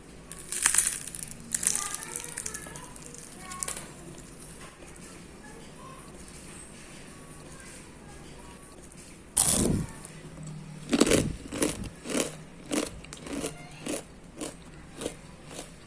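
Someone bites into super crispy fried chicken with a sharp crunch, then chews with a rapid run of loud crackling crunches. Quieter crunching and handling noises come earlier.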